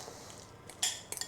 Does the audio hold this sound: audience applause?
no